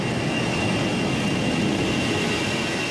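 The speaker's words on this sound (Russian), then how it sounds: "А это взлетает его последняя модификация – Ил-76МД-90А" An Ilyushin Il-76MD-90A military transport jet taking off, a loud, steady broadband engine roar filling the whole clip with no voices.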